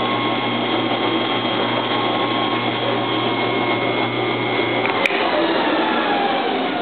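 A Hobart 4246 HD mixer grinder runs with a loud, steady motor drone and whine, close and constant throughout, with one brief sharp click near the end.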